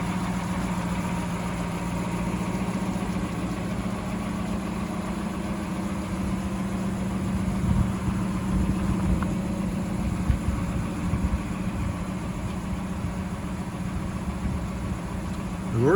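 A 1934 LaSalle sedan idles steadily after a cold start, its low engine rumble running evenly and continuously at moderate volume with no talking.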